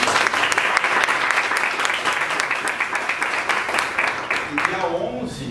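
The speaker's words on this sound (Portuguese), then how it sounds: "gostaria de uma salva de palmas para o professor" Audience applause for a professor at a university lecture, dense sustained clapping from a crowd that carries on steadily and thins out toward the end, with some voices mixed in.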